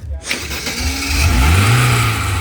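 A fuel-injected VAZ 21011 car engine cranks briefly and catches, then settles into a loud, close rising hum as it starts running.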